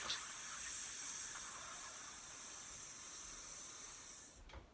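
A long, steady breathy hiss held for several seconds, fairly loud and close, then cutting off abruptly; children at a school singing assembly imitating a cat's hiss.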